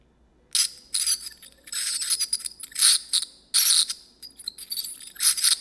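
An electric dental plaque remover on its soft setting gives a high-pitched buzzing in several bursts of a second or so, stopping and starting, close up with no talking.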